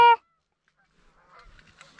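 A single loud goose honk bursts out close by at the start of a goose hunt, then fades to quiet, faint rustling and distant movement.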